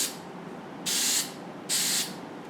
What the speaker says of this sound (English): here's this spray adhesive I use